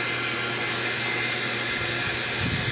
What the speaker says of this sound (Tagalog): Dalawang blower natin dito eh.